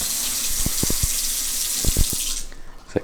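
Tap water gushes steadily into a sprouting tray of fenugreek seeds over a kitchen sink, a broad hiss with some low knocks, then the flow cuts off.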